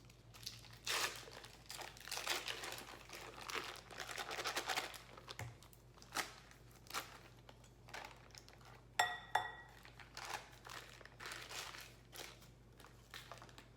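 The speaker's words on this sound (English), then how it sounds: "the cream cheese, which we're gonna take out of our packaging" A block of cream cheese being unwrapped from its packaging, soft crinkling and rustling of foil or paper in irregular bursts, quiet and close, with a brief crisp tearing flurry near the end.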